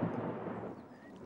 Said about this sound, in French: C'était le tonnerre, Peppa.